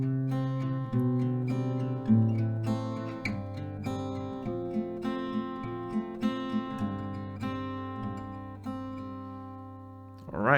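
Acoustic guitar fingerpicking in a song, with plucked notes ringing over held chords in a steady, moderately quiet, close-up pattern, with no talking.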